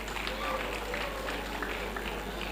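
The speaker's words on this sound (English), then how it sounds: "Please clap for yourselves once again" Graduate members applauding themselves at an engineering induction ceremony, a steady wash of crowd clapping that fills the whole stretch at moderate level, with faint voices mixed in.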